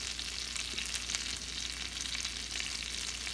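Pancake batter frying in butter in a pan, a steady soft sizzle with fine crackling throughout, fairly quiet and close, with no talking.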